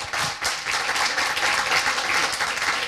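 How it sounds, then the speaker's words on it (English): A crowd at a children's charity gathering applauds, a dense, loud, sustained wash of many hands clapping that continues throughout. "I'd like a good round of applause for Cameron and Bita"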